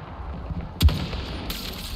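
A single sharp sniper rifle gunshot crack in Battlefield 2042, a headshot, loud and sudden, followed by a short ringing tail and game ambience.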